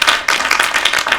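Audience applause at a theatre showcase, a short burst of many hands clapping, dense and close.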